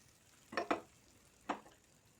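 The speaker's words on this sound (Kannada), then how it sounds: "ಬಿಸಿ ಇರುವಾಗನೇ ಈ ಎಣ್ಣೆ ಇದು ಹಿಟ್ಟಿಗೆ ಹಾಕಬೇಕು" Hot oil poured into flour for karchikai dough gives three short, quiet sizzling crackles, two close together and a third a moment later, with no talking.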